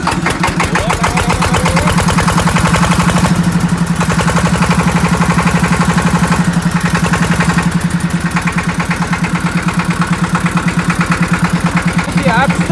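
Klaus 188 18 hp mini tractor's single-cylinder engine running loud and close with a steady, rapid thumping beat throughout, slightly varying in load, with no talking.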